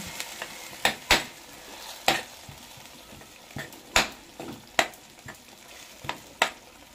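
Century Tuna meat hits a sizzling pan and is stirred, a steady fry hiss broken by about a dozen sharp scrapes and clacks of the utensil against the metal, close and without voices.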